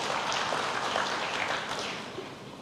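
A church congregation claps together in a dense, sustained round of applause that fills the room and then slowly tapers off.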